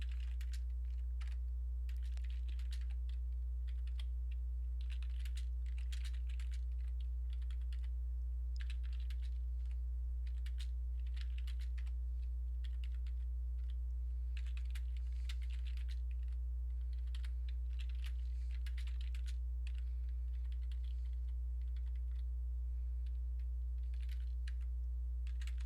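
Someone types steadily on a computer keyboard while entering 1921 Census of Canada data. The close keystrokes come in quick irregular bursts and pauses over a constant low electrical hum.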